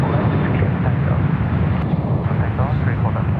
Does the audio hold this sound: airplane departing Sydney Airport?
yes